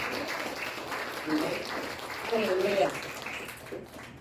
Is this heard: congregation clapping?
yes